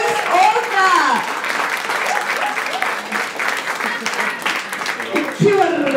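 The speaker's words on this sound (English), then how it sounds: "So, everybody, give Njabulo Nkosi a round of applause, please!" An audience applauds the newest author Njabulo Nkosi, a loud, continuous wash of clapping, with voices audible over it at the start and end.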